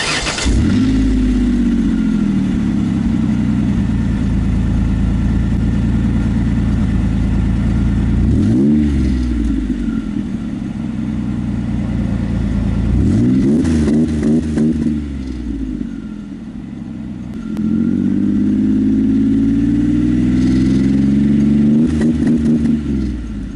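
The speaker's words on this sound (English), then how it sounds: "the newly installed MagnaFlow muffler with this dual tip side exhaust. Let's go ahead and start it up and hear it." A Ford Explorer Sport Trac fitted with a MagnaFlow muffler and dual-tip side exhaust idles with a loud, deep burble, revving up in several rising and falling pulls, close by with no talk.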